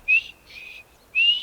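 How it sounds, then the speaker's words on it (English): A character in modded Skyrim whistles at people, giving three short, bright, fairly loud whistle notes with brief gaps between them, and nothing else is heard. "it allows me to whistle at people and improve my whistling skills"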